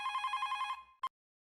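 A telephone bell rings with a rapid trilling burst, then one short final ring cuts off into silence. Close and clear, with no voices.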